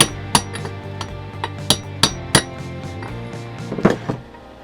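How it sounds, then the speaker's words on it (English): A socket hammered against a C4 transmission pump bushing to drive it out: several sharp metallic clinks at irregular intervals over a steady background hum, close and fairly loud. "I'm setting the side of the socket on the side of the bushing and tapping it out all the way around."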